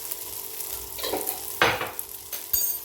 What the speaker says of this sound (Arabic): نقلبهم كويس جدا.